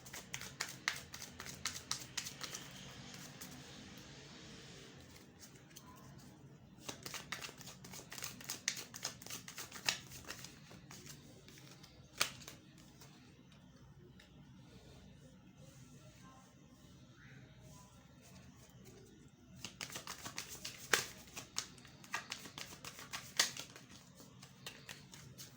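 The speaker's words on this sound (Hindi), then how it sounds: "ये कार्ड्स पहले से शफल थे, but I still shuffle them for your satisfaction." Tarot cards are shuffled close by in soft, rapid riffling bursts that come and go over quiet background noise.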